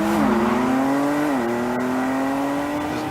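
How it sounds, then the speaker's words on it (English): An unmuffled, unaltered car engine revs hard and climbs through gears in a raucous, deafening roar, with two quick shift dips, loud and close, no voices. "I also love the way they haven't messed around with the sound this engine makes"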